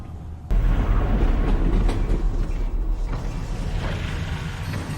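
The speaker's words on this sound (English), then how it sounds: "Next stop, Fairview Junction." A train in Half-Life Alyx rolls along rails with a steady, loud rumble and faint creaks, starting abruptly and running continuously without voices.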